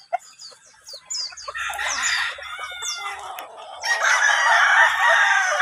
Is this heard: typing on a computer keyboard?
no